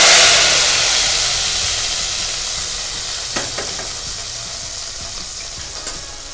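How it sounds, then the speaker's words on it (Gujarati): Boiled wheat khichdo with a tempering is stirred in a hot pan, giving a loud sizzling hiss that slowly fades, with a few scraping stirs of the spoon. "ખીચડો આપણે હલાવીને એક રસ કરી દઈશું બાફેલા ઘઉંનો ખીચડો અને વઘા એક રસ કરી દીધો"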